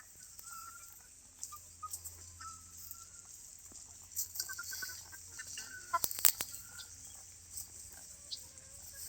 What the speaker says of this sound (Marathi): पाण्यात बघा कशा कोंबड्या